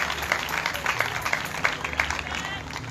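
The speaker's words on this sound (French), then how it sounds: "Est-ce que vous voulez applaudir bon Dieu plus fort toujours?" Congregation applauding God at a Haitian evangelical church service, a steady wash of clapping with scattered sharper claps and crowd voices underneath, moderately loud and continuous.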